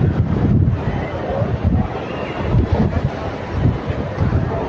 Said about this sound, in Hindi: साथ में तेज़ हवाएं आप देख रहे हैं